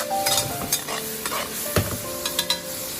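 Tofu and seasoning sizzle steadily in a wok after a splash of water, with a constant frying hiss and a few scraping stirs and clinks of the spatula, close and without talk.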